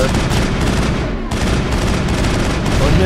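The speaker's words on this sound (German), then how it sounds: "Ich schieße und schieße und irgendwann macht's Pöff." Sustained, dense gunfire in the Mass Effect video game, rapid shots running continuously at high level with only a brief dip partway through.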